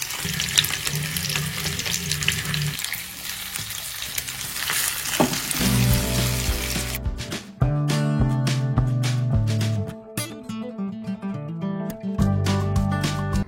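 Mustard paste fries gently in a pan with a steady, soft sizzle, and partway through, background music with a clear melody comes in over the continuing frying.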